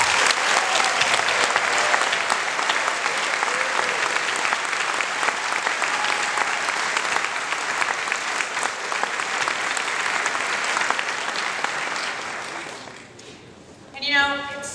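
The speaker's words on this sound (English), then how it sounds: "We should give them all a great big round of applause." A large crowd at the New Hampshire Democratic Convention applauds steadily and loudly for a long stretch, then the clapping fades and a brief voice or tone follows at the end.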